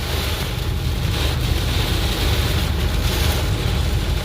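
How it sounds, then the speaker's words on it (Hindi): Strong, steady storm wind roars over a road with vehicles, a dense low rumble and hiss, gusting slightly throughout with no voices. "इतना ज़्यादा तूफान आ चुका है, बहुत तेज।"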